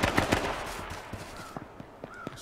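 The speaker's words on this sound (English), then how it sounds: "I hit him with a pistol." Pistol shots in the survival shooter game H1Z1, a quick burst of sharp reports at the start followed by a few scattered, fainter cracks against a noisy in-game background.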